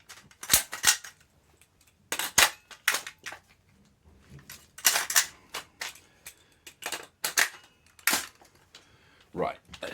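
Tokyo Marui MWS airsoft rifle firing with a green gas modified magazine, a series of sharp, snappy cracks in irregular groups separated by short quiet gaps, close and distinct.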